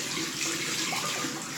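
Running water from a tap rinsing shaving lather off, a steady close splashing rush with no talk.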